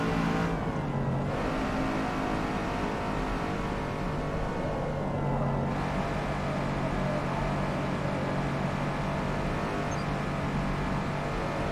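A race car engine in Forza Motorsport (2023) drones at steady high revs, a continuous whining roar held near top speed with only a brief dip early on and no pauses.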